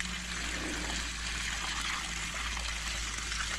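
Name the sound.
water washing soil off plants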